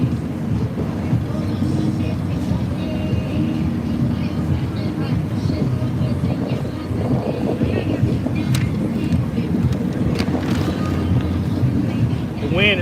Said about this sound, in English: Wind is not being helpful either.